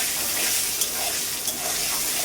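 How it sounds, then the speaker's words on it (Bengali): Cut brinjal pieces sprinkled with salt and a little turmeric sizzle in hot oil, a dense, even hiss with faint crackles, close up. "এইবার এই তেলেই কেটে রাখা বেগুনগুলোকে সব ভেজে নেব।"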